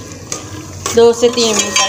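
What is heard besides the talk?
sautéing onion masala in ghee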